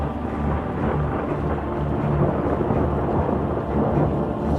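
Deep thunder rumbles continuously with steady rain pouring underneath, a dense, loud storm roar with no voices.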